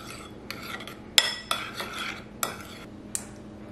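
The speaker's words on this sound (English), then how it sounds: "I'm just going to mix it in with my yogurt." A spoon stirring kumquat syrup into yogurt in a bowl, giving a few distinct clinks and scrapes against the dish at uneven intervals, close and fairly quiet, with no talking.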